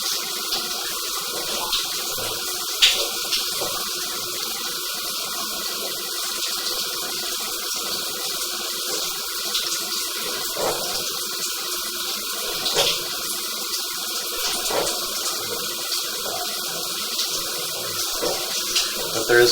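Water flows steadily through a residential sewer line that has a slight belly, a continuous rushing wash with small splashes and gurgles, moderately loud and unbroken throughout, with no talking.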